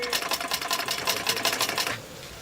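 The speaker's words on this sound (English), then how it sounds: "Another person sews with the machine." A sewing machine stitching a sombrero vueltiao, the traditional woven Colombian hat, runs in a fast, loud, steady rhythmic clatter for about two seconds before stopping abruptly, close by and with no voices.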